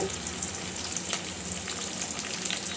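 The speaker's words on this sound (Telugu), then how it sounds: "వీటిని బాగా ఫ్రై చేసుకోండి" Green chillies, ginger, carrot, beans and curry leaves fry in hot oil with onions for semiya upma, a steady close sizzle with faint stirring scrapes throughout.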